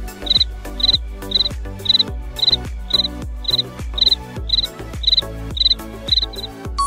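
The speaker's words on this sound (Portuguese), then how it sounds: "Se você respondeu grilo," A cricket chirps in a steady, even rhythm, about a dozen short trilled pulses spaced roughly half a second apart, loud and close with nothing else around.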